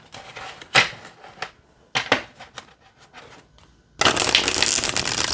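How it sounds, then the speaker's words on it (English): Black-and-white Rider Waite tarot cards are shuffled by hand in several crisp riffle bursts and quick flicks, separated by short pauses, ending in a louder, sustained shuffling rush close by. "let's shuffle, and then we'll pull a card"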